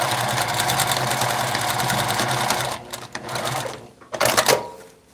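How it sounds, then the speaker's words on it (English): Domestic sewing machine stitching elastic onto an Indian shirt, running in a steady loud whir for nearly three seconds, then stopping and starting in two shorter bursts. "Now I will sew this, stitch this elastic"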